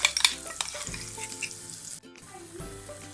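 Ground chili masala paste frying in coconut oil for a prawn curry, a busy crackling sizzle with stirring scrapes, loudest at the start, then easing into a softer steady fry after a brief pause.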